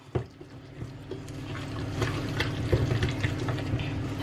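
A small amount of water pours into lentil batter for spicy Gujarati handvo, a close, gentle trickle and splash that builds slightly, with light kitchen clatter.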